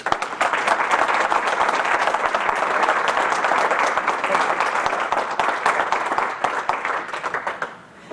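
A room full of people applauds steadily for a speaker taking the stage at an LGBTQ Veterans Day event, dense even clapping sustained for about eight seconds before tapering off at the end.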